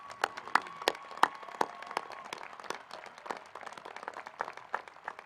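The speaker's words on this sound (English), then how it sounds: "will you please give a round of applause for the Class of 2021?" Scattered clapping from a graduation commencement crowd applauding the Class of 2021, sharp individual claps heard faint and at a distance.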